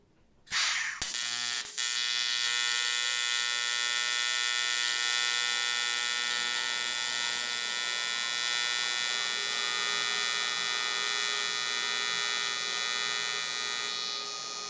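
TIG welding on aluminum, laying short beads: a steady, loud electric buzz with a humming tone starts abruptly and holds continuously for most of the clip, with no talking.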